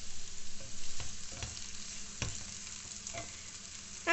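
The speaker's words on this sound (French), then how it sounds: "Je vais mettre de l'oignon que j'ai râpé, que vous pouvez émincer bien évidemment aussi, avec de l'ail." Grated onion and garlic fry in a pan with a steady, soft sizzle, stirred a few times with light scraping knocks, heard alone and fairly quiet.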